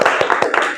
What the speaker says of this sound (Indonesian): Oke, boleh tepuk tangan?